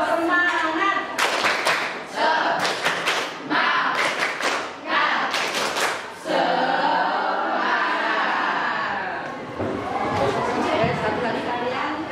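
A class of eighth-grade students performs a rhythmic group clap in bursts of sharp, synchronized claps separated by pauses, with voices chanting and talking between them in a classroom.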